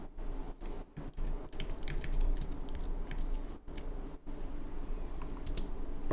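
Commands being typed on a computer keyboard, a steady run of quiet, close key clicks with brief pauses between bursts of keystrokes.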